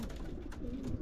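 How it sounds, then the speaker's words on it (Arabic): Pigeons cooing nearby in a soft, low, brief murmur, quiet and alone. "ديما الحمام خاص تخليه يطير بخاطرو"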